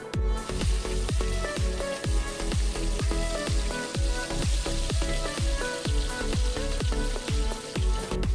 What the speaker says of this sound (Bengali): এবার সেই কড়াতে একে একে সব মাছগুলো খুব ভালোভাবে ভেজে নেব